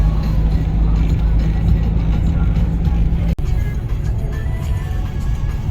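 A truck loaded with straw, shedding it onto the Aksaray–Konya road, drives along as a steady, heavy low engine rumble with road noise that holds nearly constant the whole time.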